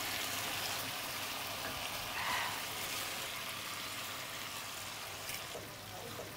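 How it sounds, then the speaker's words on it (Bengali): Raw fish pieces laid into a hot oiled pan, giving a steady, soft sizzle and faint bubbling that eases slightly toward the end, heard close and without any talking. "এখন মাছটা আমি দিয়ে দিচ্ছি। একদম এটা কাঁচা মাছটা দিচ্ছি।"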